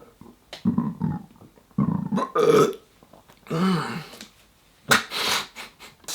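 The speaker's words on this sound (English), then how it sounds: "I gotta stop burping." Several loud, guttural burps come in bursts close to the mic, separated by short quiet gaps.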